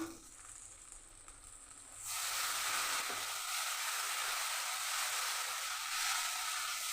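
Mustard paste and slit green chillies hit hot oil in a pan, bursting into a loud, steady sizzle and hiss after a quieter start while cooking a pabda fish curry.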